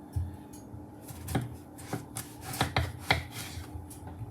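A knife cuts roasted breadfruit into small slices for frying: about half a dozen crisp cutting strokes with soft scraping between them, close up and clear, with no talking.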